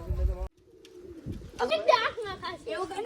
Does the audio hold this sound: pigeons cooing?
yes